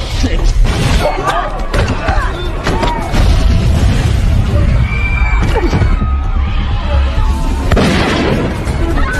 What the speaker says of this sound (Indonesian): Ledakan pun terjadi, membuat Clinton terpental jauh